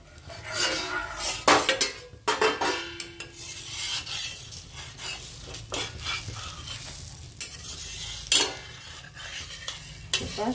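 Metal clanks and scrapes sound as a covering plate is lifted off a griddle where dudhi bhopla (bottle gourd) thalipeeth cooks, the sharp clatters close and irregular over a faint background sizzle.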